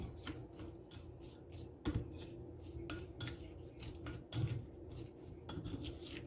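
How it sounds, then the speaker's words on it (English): A spatula repeatedly scrapes and clinks against a pan while shrimp and cabbage for a spicy low-carb cabbage "fried rice" are stirred together. The strokes come in a quick, uneven rhythm of moderately loud, close metallic scrapes with a low background hum. "So now what I will just do is just to stir everything together very well"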